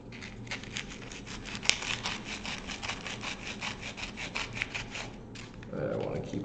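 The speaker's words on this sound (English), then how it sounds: "Just 150 grit sandpaper to just kind of shred this a little bit." Steady rhythmic sanding of an N scale Micro Trains flat car with 150 grit sandpaper, quick back-and-forth rasping strokes close up, continuous for several seconds before easing off at the end.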